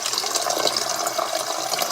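Very carbonated water fizzes and bubbles close up, a bright, steady crackling hiss of many tiny bursting bubbles lasting about two seconds with no voices.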